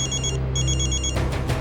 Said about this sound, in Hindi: भाभी, आज तो आपका फ़ोन बहुत बज रहा है।